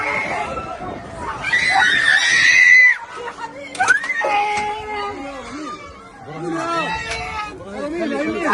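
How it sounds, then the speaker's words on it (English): Children scream after an attack on a refugee camp in Gaza City, with shrill, wavering wails rising and breaking off in bursts, mixed with other crying voices and agitated chatter close by. "The screams of children can be heard as the camera shows images of shredded bodies and injured children"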